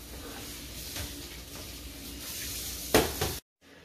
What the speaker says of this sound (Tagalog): So ngayon po, kumukulo na.